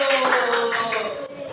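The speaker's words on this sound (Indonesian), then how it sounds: "Oke, tepuk tangan." Classroom applause from a group of students, a dense burst of rapid hand clapping that stays close and loud before thinning slightly toward the end.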